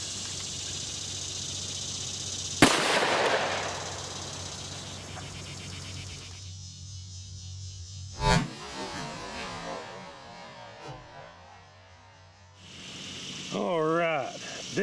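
A single sharp, loud gunshot from a .357 SIG Federal HST round fired into ballistic gel, followed by a sizzling decay, a second fainter crack a few seconds later and background rustle.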